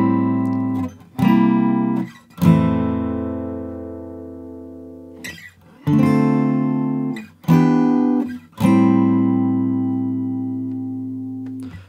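A guitar plays the verse chords of a song. Several strummed chords ring out and decay, separated by short pauses and quick rechanging strums, sounding clean and close with no talking.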